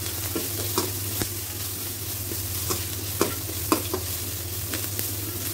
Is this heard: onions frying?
yes